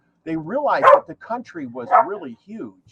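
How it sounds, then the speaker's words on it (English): Dogs bark in the background, faint and intermittent under someone speaking steadily in the foreground. "sorry about the dogs barking."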